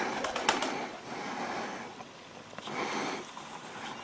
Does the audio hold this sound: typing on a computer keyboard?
no